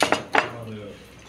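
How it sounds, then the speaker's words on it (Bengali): During a shared vegetarian meal, dishes and cutlery clink twice in quick, close succession, then ring out softly and fade into a quiet room. "তো সবাই এখন খাওয়া দাওয়া করছে"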